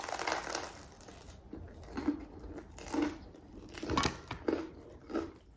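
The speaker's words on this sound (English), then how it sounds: "Now let me eat my edamame so we can get to work." Edamame being eaten: soft crunching bites and chewing come in irregular bursts, close up and quiet, with no talking.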